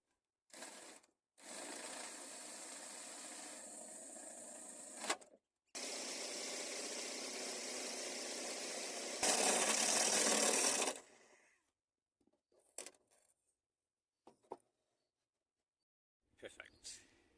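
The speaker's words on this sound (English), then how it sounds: "I've just realised that my hole cutting tool actually can go all the way out to 150 mils" A hole saw cutting a 150 mm opening while building a sliding doghouse for a Wharram Pahi 31 catamaran: two long, steady grinding runs with a harsher, louder burst at the end, followed by scattered clicks and short knocks.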